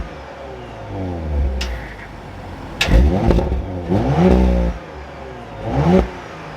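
A 2023 Audi RS5 Sportback engine cranks and fires up nearby, then blips through several loud revs before settling toward idle.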